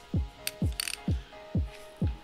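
Five evenly spaced ratcheting strokes from a hand ratchet tightening a bolt during a Honda Beat restoration, close and clear, with a few brief metallic clinks between pulls and no talk.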